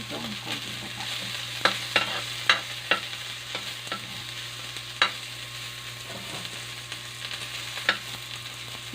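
Onion and a little pork fat sauté in a pan for sinigang. A steady close sizzle runs throughout, with sharp scrapes and clacks of stirring at irregular moments, and nobody speaks.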